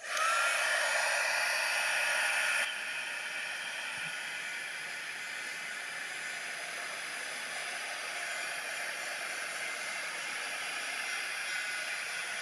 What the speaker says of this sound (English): I think it's gold embossing powder and I don't want it to set, so there. Like so. Now I'm going to heat set it.